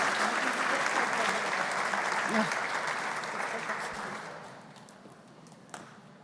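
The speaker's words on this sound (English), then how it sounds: "Can I have a round of applause for my panel?" Audience applause for a conference panel at a Tech Talent Charter breakfast event, a dense steady clapping from a sizable crowd that gradually tapers off toward the end.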